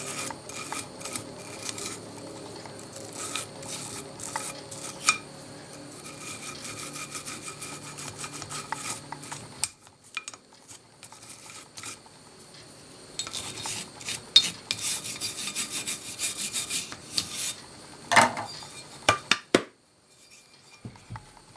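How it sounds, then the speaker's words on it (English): A rag and brush scrub the metal of an old 1950s Record No. 4 hand plane. Bursts of close, rasping strokes come in uneven bouts, separated by brief pauses and a few sharp knocks. "we'll get a rag and our brush and clean all this up a little bit"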